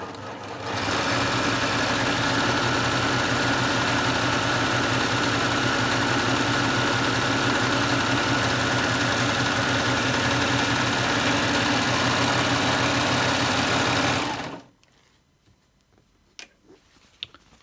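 A Baby Lock machine stitches a flatlock wave seam in one continuous fast, whirring run up close for about fourteen seconds, then stops abruptly, leaving a few faint handling clicks.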